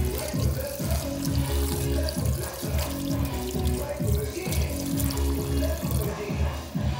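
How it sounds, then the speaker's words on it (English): Cold tap water gushes over cooked lasagna noodles in a steady, full splashing stream that continues close and fairly loud without pause. "Add some cold water to them."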